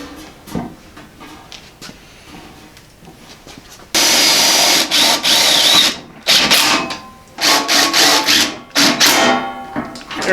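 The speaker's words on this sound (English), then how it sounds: "we'll put a couple of sheet metal screws just to hold this together in the shape of the box for now" A power drill drives self-tapping sheet metal screws into a handmade metal storage box for a Model A hot rod shop truck. Loud, close whirring bursts start and stop repeatedly after a quieter opening stretch.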